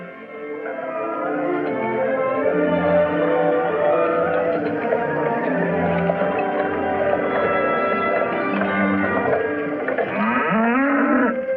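Loud, drawn-out cow moos fill the whole stretch, one overlapping call after another, with a final rising bellow near the end.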